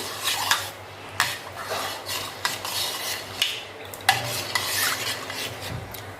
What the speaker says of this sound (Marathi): आता व्यवस्थित हे एकसारखं मिक्स करून घेऊया